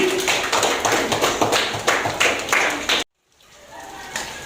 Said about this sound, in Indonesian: tepuk tangan buat Widi